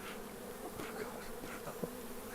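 A dense, steady hum of many bees buzzing close by around a hive loaded with honey, with individual insects droning past now and then.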